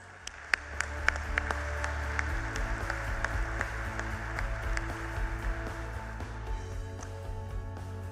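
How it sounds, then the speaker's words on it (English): An audience at a church synod gathering applauding teachers, scattered sharp claps at first building into steady sustained clapping over a low hum, then thinning toward the end. "Let's go ahead and give them one more round of applause."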